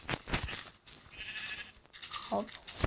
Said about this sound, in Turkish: Abi koyun kaynıyor burası.